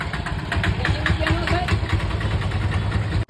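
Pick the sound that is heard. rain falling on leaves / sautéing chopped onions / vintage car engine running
vintage car engine running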